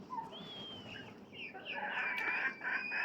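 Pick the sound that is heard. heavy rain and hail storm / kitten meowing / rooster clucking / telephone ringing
rooster clucking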